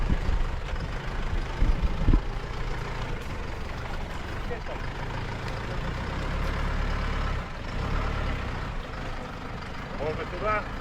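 A GAZ-66 Shishiga truck drives slowly through forest with its engine at a steady low rumble, loud and close, while a voice talks over it and guides the driver.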